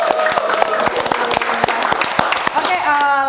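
Applause from a studio audience for a guest on an Indonesian podcast, a dense run of quick claps close to the mic, steady and loud, with voices talking over it toward the end.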